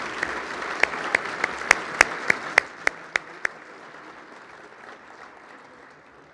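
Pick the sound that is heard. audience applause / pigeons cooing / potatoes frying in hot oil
audience applause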